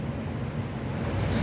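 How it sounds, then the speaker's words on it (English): Strong wind gusting steadily at 25 knots on a night outdoors in Mazatlán, a continuous loud rushing roar with the low buffeting rumble of wind hitting the microphone, alone without talk. "there's like there's 25 knot gusts here tonight"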